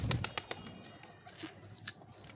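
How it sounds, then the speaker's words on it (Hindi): A domestic pigeon handled near its loft coos softly amid a few quick bird chirps and light flutters, close by, with faint background noise. "लौट का आया है ये अपना कबूतर"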